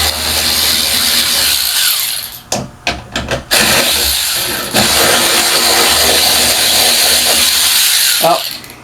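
A power driver unscrews the housing screws on an Overhead Door Phantom garage door opener, its loud whirring motor running in long steady stretches broken by a cluster of short stuttering bursts.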